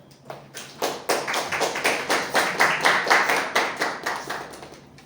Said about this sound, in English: With a big round of applause to ladies and gentlemen, Toastmaster Ekta.